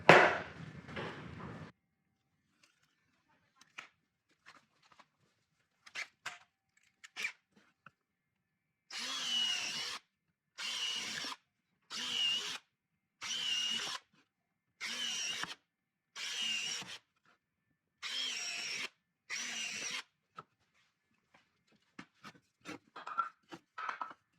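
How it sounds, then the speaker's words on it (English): A power drill bores countersink holes into the ends of 2x4 wood blocks, running in about nine loud, regular bursts of a second or so each, separated by short pauses, with a few fainter clicks and handling knocks before and after. "I'm going to put countersink holes on each end, on one end of each one of these"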